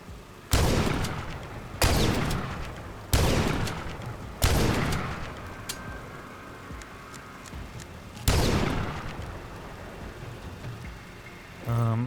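Submachine gun fire in the game The Last Stand: Aftermath: five loud, separate bursts with short gaps between them, the last one after a longer pause. A short burst of noise closes the clip.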